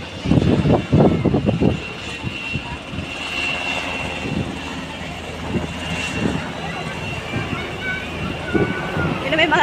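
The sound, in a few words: helicopter flying overhead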